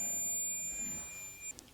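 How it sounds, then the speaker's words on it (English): A multimeter in continuity mode emits a thin, steady, high-pitched electronic beep that holds for over a second before cutting off, faint over low background noise. "And the meter should beep and you should get a really low reading."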